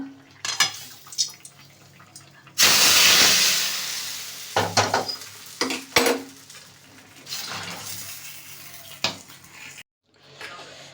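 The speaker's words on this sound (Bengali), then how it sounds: "এইবার ফোড়নটাকে ঢেলে দেবো" Hot spice tempering of dried red chilli and panch phoron is poured into shukto, bursting into a loud, hissing sizzle that fades, surrounded by clattering pot and spoon knocks and stirring, with no voices.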